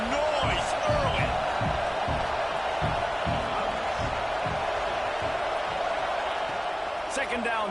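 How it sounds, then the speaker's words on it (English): A dense, roaring stadium crowd in an American football video game fills the background with steady noise, with thumping impacts and occasional whoops rising out of the din. "This crowd bringing the energy and noise early."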